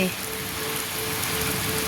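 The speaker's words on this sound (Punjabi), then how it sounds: "ਮੀਂਹ ਬਹੁਤ ਜ਼ਿਆਦਾ ਪੈ ਰਿਹਾ ਬਹੁਤ ਜ਼ਿਆਦਾ ਮੀਂਹ ਪੈ ਰਿਹਾ" Heavy rain pours down in a dense, steady hiss, loud and continuous from start to finish.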